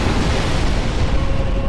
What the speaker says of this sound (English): it's either using the explosion attack that got us killed last time